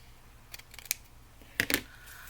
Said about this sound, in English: Now I'll trim this off.